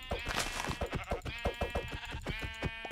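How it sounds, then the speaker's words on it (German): Sheep in the Minecraft video game bleating repeatedly, several loud, close, wavering cries in quick succession with soft footstep-like clicks between them and no talking. "Und hier ist ein Schaf."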